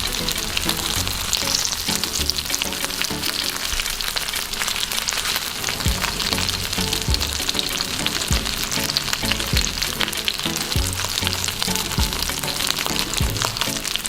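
Thick-fleshed mackerel fries in hot oil in a pan, giving a loud, dense, continuous sizzle with crackling pops and occasional low thumps, close up and steady, no voices.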